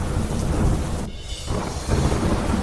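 Heavy monsoon rain pours steadily in Mehsana, Gujarat, while a deep rumble of thunder rolls through, and the downpour briefly thins before returning loud and dense.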